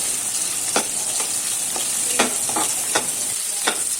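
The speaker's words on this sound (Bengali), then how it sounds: "পেঁয়াজটিকে গোল্ডেন ব্রাউন করে ভেজে নেব" Chopped onions fry in hot oil in a pan, browning for chickpea curry, with a steady loud sizzle and several short stirring scrapes over it, close up and without talk.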